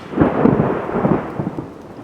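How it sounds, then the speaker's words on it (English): Thunderstorm with rain in rural Jamaica under a mango tree: a loud, close rumbling roll of thunder over a wash of rain, fading after a couple of seconds. "I can hear the rain coming to ruin this video."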